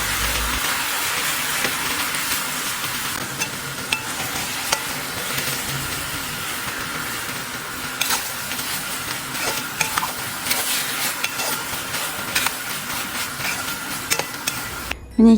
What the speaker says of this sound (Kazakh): Бір ас қасық қаймақ немесе майонез қосып тағы да араластырамыз.